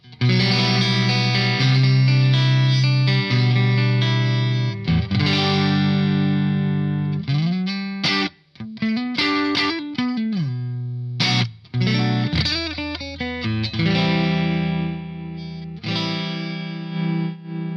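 Electric guitar through an overdriven non-master-volume Marshall ST20 tube amp, playing sustained distorted chords and riffs, loud and thick, with brief pauses and slides between phrases.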